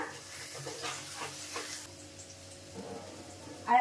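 Taro stolons (loti) frying in oil in a pan for a spicy Bengali dish, a steady soft sizzle with faint crackles and a stir or scrape near the end, quiet and close with no talk.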